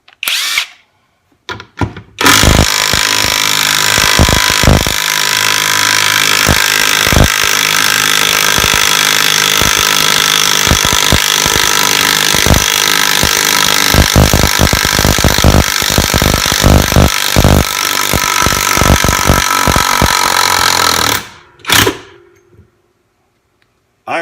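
Kimo 20V cordless half-inch impact wrench run in reverse to back a large lag bolt out of wood, a loud, continuous rapid hammering rattle lasting about twenty seconds before it stops.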